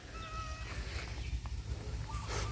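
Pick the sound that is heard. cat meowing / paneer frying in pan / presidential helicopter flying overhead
cat meowing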